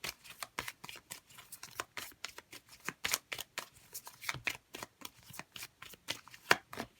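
Tarot cards are shuffled by hand in a quiet room, giving a steady run of soft, crisp riffling snaps in irregular bursts, close and clear, with no talk over them.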